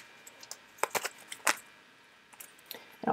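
Tarot cards are shuffled nearby, a quiet scatter of soft crisp flicks and taps in irregular bursts over a faint background.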